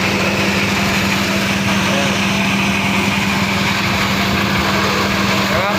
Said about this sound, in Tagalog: Ito ang ating power towel mga kabakal, para maayos yung pagbuli.